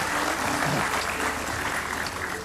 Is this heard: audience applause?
yes